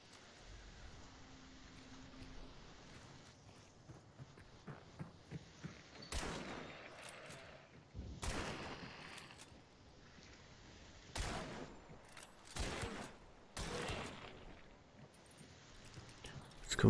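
Faint gunfire in the video game Hunt: Showdown: about five or six sharp shots spaced a second or two apart over a low, murky in-game background.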